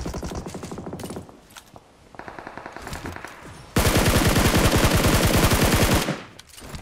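Video-game gunfire in Fortnite: short repeated bursts of automatic fire, then one long, loud sustained burst that stops abruptly.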